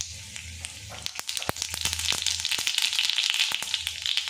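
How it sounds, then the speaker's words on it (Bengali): Mustard seeds hit hot white oil in a heated kadai and crackle with dense, rapid popping bursts that grow louder and busier, close up and without talk. "তেলটা গরম হয়ে গেছে, এর মধ্যে দিয়ে দেবো সর্ষে"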